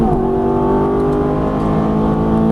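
A Ferrari F430 on a racing track revs hard through an upshift, a loud, close, steady engine roar with a strong droning tone and no talk over it.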